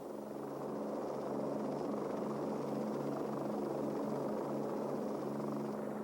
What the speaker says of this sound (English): extensive test flights were conducted on 2 XH-51 prototypes by Lockheed